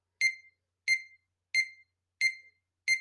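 Metronome ticking at about 90 beats per minute: five crisp, sharp clicks evenly spaced in a steady pulse, each followed by silence.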